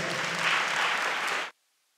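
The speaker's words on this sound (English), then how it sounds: "I'm sure that you can give a bigger and better round of applause." Audience applause at a college valedictory ceremony, a dense burst of clapping lasting about a second and a half before stopping abruptly.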